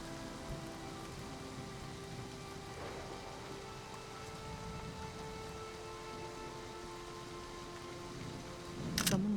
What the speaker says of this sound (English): What is it about like thunder and rain sounds that are so comforting?